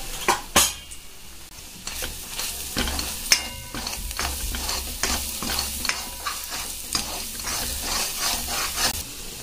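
A spatula stirring shev bhaji masala with turmeric and homemade spice mix in a pan, giving repeated scraping strokes and clinks of metal over a continuous sizzle, close and fairly loud.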